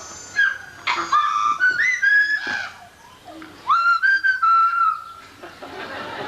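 A bird whistles a melodic tune in clear, sliding notes, close by, with short pauses between phrases and a little background chatter.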